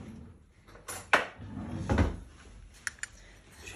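A kitchen drawer is pulled open and pushed shut, producing a couple of close wooden slides and knocks followed by light clicks, heard alone at moderate volume.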